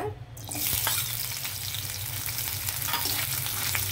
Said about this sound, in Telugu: ఆయిల్ హీట్ అయిన తర్వాత ఎండు మెత్తళ్ళు వేసి ఇవి నూనెలో వేయించి తీసేయాలన్నమాట